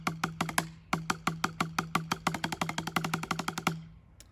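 Rapid sixteenth-note diddle sweep across drum pads, ending on the second drum: crisp, closely miked strokes in quick pairs that tighten into a dense run, each hit carrying a sustained low tone, then fading out.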